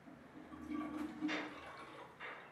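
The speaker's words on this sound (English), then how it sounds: "let's turn the water on" Water is turned on in a newly plumbed system, giving a few quiet, close spurts of running and dripping water with faint gurgling between them.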